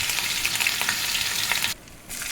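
Garlic paste for doi chicken fries in a pan with a loud, close, crackling sizzle that briefly drops out before resuming.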